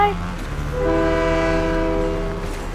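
Train in the video game Fortnite rolling past while its horn blares, a loud sustained multi-tone honk over the rumbling rail noise that holds steady for nearly three seconds before easing slightly.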